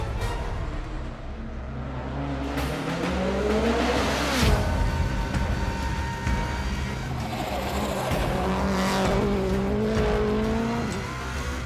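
A Subaru rally car's engine roaring steadily and shifting pitch as it speeds around the Isle of Man circuit, loud and continuous without any talking.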